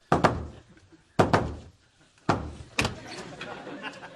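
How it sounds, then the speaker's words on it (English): Knocking on a wooden door in a secret pattern: a few heavy, hollow thumps come in uneven spacing, loud and close, with short pauses between them. "That's not the secret knock."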